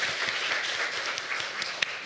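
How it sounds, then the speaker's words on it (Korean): Moderate applause welcomes a speaker at an education symposium in Jeju, a steady patter of many hands clapping with a few sharper claps standing out near the end. "10분 토론 박수와 함께 모시도록 하겠습니다."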